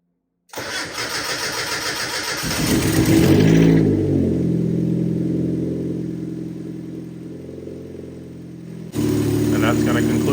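A Mazda Miata (NB) with a newly fitted intake manifold cranks and fires up, then revs sharply before settling into a steady idle, close and loud, with another rise at the end.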